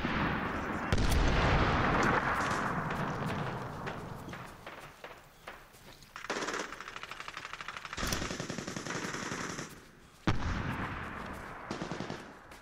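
Rapid bursts of gunfire from the combat video game Medal of Honor Warfighter, loud and close with repeated volleys and sharp single shots throughout, mixed with other battle noise.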